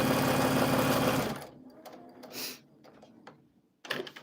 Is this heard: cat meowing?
no